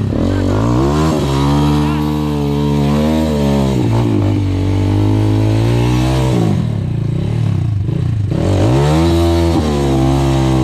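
A Chinese 150cc motorcycle engine revs loudly and continuously up close, its pitch rising and falling through repeated throttle blips over about ten seconds.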